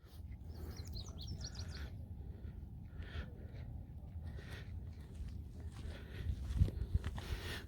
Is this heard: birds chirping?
yes